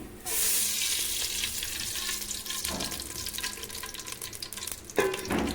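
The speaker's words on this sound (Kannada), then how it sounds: "ನೋಡಿ ಫ್ರೆಂಡ್ಸ್ ಇವಾಗ ಪಾತ್ರೆ ಕಾಯ್ಲಿಕ್ಕೆ ಇಟ್ಟಿದ್ದೀನಿ ಇವಾಗ ಎಣ್ಣೆ ಹಾಕ್ತೀನಿ" Oil hits a hot pan and bursts into a loud, close sizzle that stays steady for several seconds, with a couple of sharper spits and pan clinks. No one speaks.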